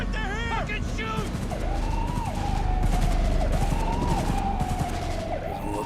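Rapid gunfire in Cyberpunk 2077 crackles in dense bursts amid a wailing police siren, with shouting voices over the chaotic scene.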